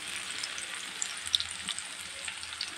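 Onion frying in hot oil for a papaya stir-fry, a steady, hissy sizzle with small crackles and pops, close but fairly quiet, with no talking.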